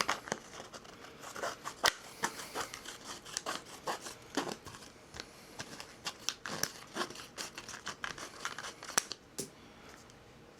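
Plastic snapping and scraping as scissors cut away the rim of a 4-inch plastic plant pot, a series of sharp close clicks and rubbing crunches repeating irregularly with no talk.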